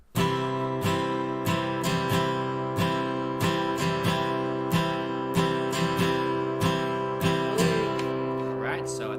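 A guitar strummed in a three-beat pattern, with evenly spaced, ringing chord strokes repeating close up for several seconds and no voice over them.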